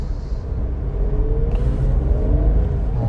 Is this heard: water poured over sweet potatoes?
no